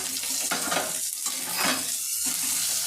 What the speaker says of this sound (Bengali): এখানে আমার টমেটোর কুচি আর ধনে পাতা ডাঁটা কুচি এটা দিয়ে দিলাম